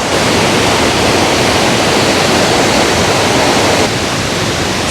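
Josephine Falls near Babinda pours as a steady, loud roar of falling water in rainforest, a dense unbroken wash that holds constant throughout with no voices.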